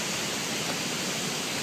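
A waterfall roars as a dense, steady rush of broadband hissing water, constant and fairly loud with no breaks or voices.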